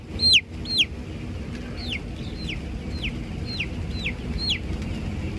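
Chickens on a chicken farm give a series of short, repeated calls in a steady rhythm over a low background hum, with a couple of louder bursts at the start.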